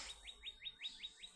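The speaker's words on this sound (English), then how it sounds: "Hear the birds out the window" Small songbirds outside a window, a repeated series of about seven quick rising chirps in steady rhythm, faint and distant through the glass.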